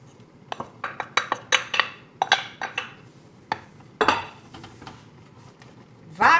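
Wheat flour being mixed into boiling water in a pot, a spoon repeatedly knocking and scraping the pot in an uneven series of clinks and clatters, with a louder scrape near the end.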